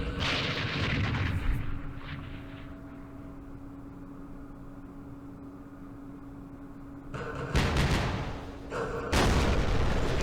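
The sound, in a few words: artillery fire in Campaign Series Vietnam video game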